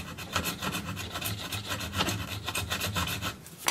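A metal file rubs back and forth across guitar frets during fret levelling, rocking on the high spots: a steady run of close, rhythmic rasping strokes with no talking.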